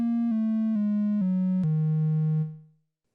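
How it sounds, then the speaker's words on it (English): A clean Behringer Neutron synthesizer tone with a triangle waveform steps down through five notes, each held briefly, then fades out smoothly. "Triangle."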